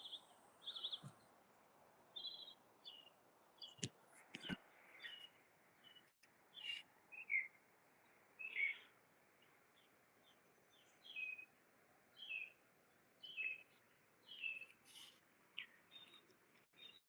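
Garden birds chirp and sing in short repeated phrases, spaced every second or so over a quiet background, with a few sharp clicks early on.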